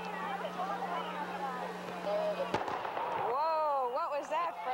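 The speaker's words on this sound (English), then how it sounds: "Sounded like cannon in the distance." During the 1995 Quincy Christmas Parade, a single sharp cannon-like boom cracks out once from a distance, cutting through the people talking before and after it.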